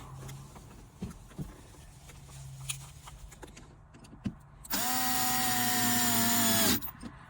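A power driver runs a Phillips screw back into the center console of a 2009-2014 Nissan Maxima, a single steady whir of about two seconds, close and loud, after a stretch of quiet handling clicks.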